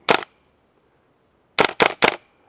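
A gas blowback airsoft rifle fires at a close target: one sharp shot, a pause, then three quick loud shots in a row, each a thick thud with no talk.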